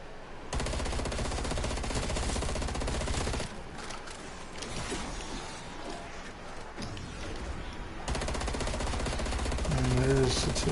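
Rapid automatic gunfire from hip-firing a gun in Cold War Zombies, loud sustained bursts at the start and again near the end, with quieter game noise between.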